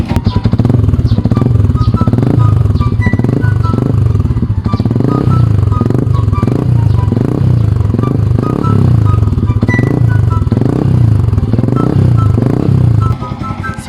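Motorcycle engine with a modified power pipe exhaust, idling loud and close with a steady, throbbing rumble and rapid rhythmic pulses throughout, no talk over it.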